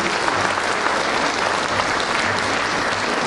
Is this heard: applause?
yes